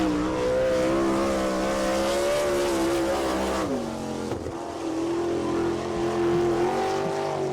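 A sprint car runs a qualifying lap at Attica speedway in Ohio during All Star Circuit of Champions Speedweek, its engine a loud, sustained high-pitched roar that dips as it backs off for a turn, then climbs again as it accelerates.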